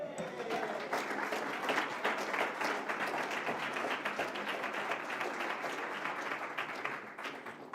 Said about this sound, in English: Please give the awesome Mr. Bobby Powell Jr. another round of applause, please.